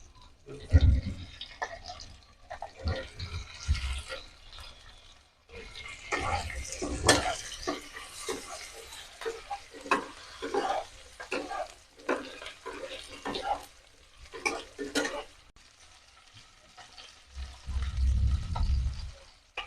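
Pieces of rohu fish hit hot oil and sizzle in bursts, with stirring and clatter from the pan in between and low thumps near the end, all heard close.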